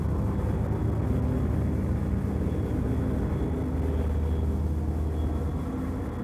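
Engines of the B-29 bomber Enola Gay during the climb to bombing altitude: a continuous, dense, loud droning rumble heard from inside the aircraft, steady throughout with no other sounds.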